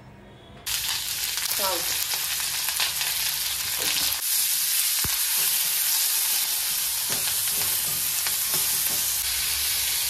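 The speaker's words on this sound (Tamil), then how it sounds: "பெரிய வெங்காயம், கருவேப்பிலை அதை சேர்த்து நல்லா வதக்கிக்கலாம்" Sliced big onions and curry leaves hit a hot pan and sauté with a sudden, sustained loud sizzle, crackling steadily for several seconds with occasional spatula scrapes and knocks, close and without any talking.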